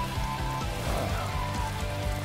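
Rain falling in a PlayStation 5 video game: a steady, dense patter of heavy rain hissing evenly throughout, with low rumbling underneath and no voices.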